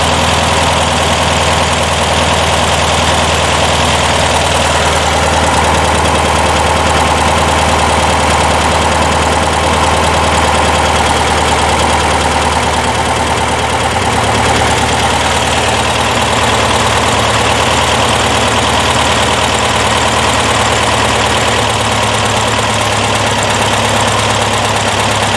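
Porsche 912 flat-four fitted with Dellorto DRLA carburetors idles steadily at a little over 1,000 RPM, a loud, continuous close-up engine drone with even mechanical clatter and no talk over it.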